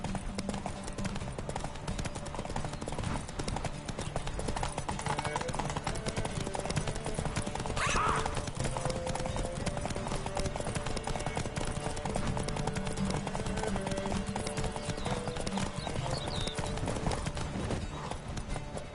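Hoofbeats of Roach, a horse in a video game, clopping at a steady galloping rhythm throughout, fairly close, with game music and ambient sound underneath and a brief voice urging the horse on.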